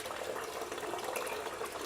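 Hot water runs from a shower valve after its temperature limiter is adjusted, a continuous hissing rush of spray at a steady moderate level with no talk over it.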